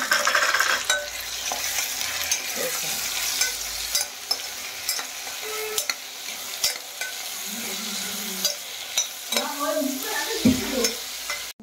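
Boiled potatoes and green peas being stirred into a poori curry in a pan, with steady scraping and mixing over a soft sizzle, the spoon clattering more sharply in a few close bursts toward the end.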